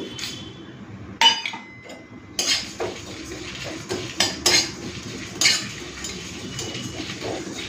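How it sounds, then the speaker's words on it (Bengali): A spatula clinks and scrapes against a dry pan while fennel seeds, cumin and dried red chillies are roasted for a khichdi spice powder; sporadic metallic taps rise over a low rustle, close by, with no talking. "মৌরি, জিরে আর শুকনো লঙ্কাটাকে ভালো করে ভেজে নিয়েছি"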